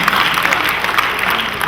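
A steady wash of clapping from a large church congregation, continuous and fairly loud throughout.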